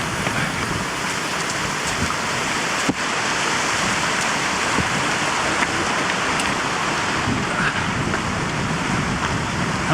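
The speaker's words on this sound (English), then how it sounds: "Just got to the halfway waterfall." Mountain waterfall beside a hiking trail, halfway down a peak during the National Three Peaks Challenge, roaring as a steady, dense broadband rush close by, with no talk.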